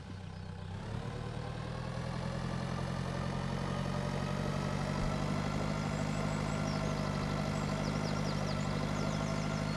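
A tractor engine idles and runs steadily in the farming game Pure Farming 2018, a constant low rumble with a slight rise early on, continuous and unbroken with no talking over it.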